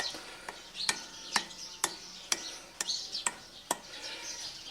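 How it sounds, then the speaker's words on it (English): A fork pokes holes in bannock bread dough, giving about nine light, crisp taps at a steady, even pace, close by and with no talking. "I'm going to take a fork and just stick a few holes in it"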